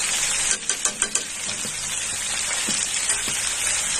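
Browned onion and garlic sizzle steadily in a pan as tomato sauce is added, a few sharp stirring taps early on and the bright frying hiss continuing underneath.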